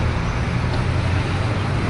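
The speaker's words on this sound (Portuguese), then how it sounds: "Ou ainda um carro em alta velocidade." A car speeds past at high speed, a steady loud roar of engine and road noise holding for two seconds with no break.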